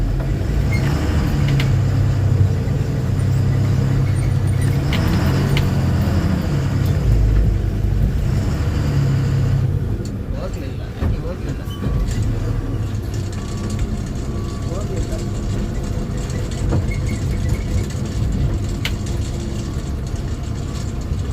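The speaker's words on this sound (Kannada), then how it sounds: "ಇಲ್ಲಿ ಕೆಸರು ಸ್ಕಿಡ್ ಆಗುತ್ತೇನಪ್ಪ, ಗಾಡಿ ಹೋಗಲ್ಲ ಅನ್ಸುತ್ತಿಲ್ಲ." A truck engine labours steadily on a muddy, slippery road near Nelamangala, a continuous loud rumble that grows heavier in the first half and then eases into a rougher, uneven drone. People talk over the engine.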